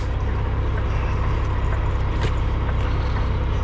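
A Peterbilt sleeper cab truck's engine idles with a steady, loud, broadband rumble that holds even throughout, heard from close by with no speech over it.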